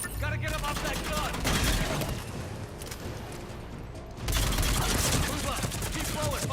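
Mounted gun in Mass Effect 3 firing sustained rapid bursts amid loud combat noise, with a brief lull before the barrage resumes, shouted voices mixed in.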